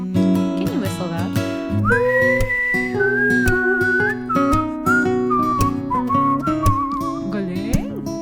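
A person whistles a bouncy melody, the clear tones stepping up and down over an accompanying musical backing.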